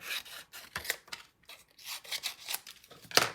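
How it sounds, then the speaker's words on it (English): Scissors trim a piece of cardstock for a paper craft project, a quick series of crisp snips and rustles close up, with a brief pause in the middle. "And then we'll just trim this down."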